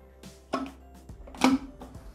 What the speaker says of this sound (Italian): chiudere con il coperchio